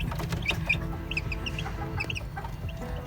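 Two-week-old chicks give high, rapid peeps and chirps in quick clusters over a steady low rumble, close by, with chicken clucks mixed in.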